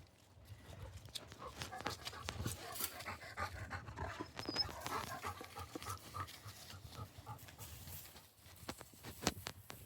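Labradors pant quietly in the woods, steady rapid breaths close by with light pattering of paws, faint and low in level.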